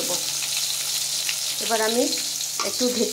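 Fish frying in hot oil in a pan at home gives a steady, close sizzle, with a few clatters from stirring and turning.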